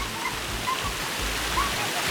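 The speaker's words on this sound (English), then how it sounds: "so this waterfall at night" A nighttime waterfall in Kuwait City pours in a constant, even hiss of falling water, close and steady with no pauses.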